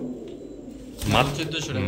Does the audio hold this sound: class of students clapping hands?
no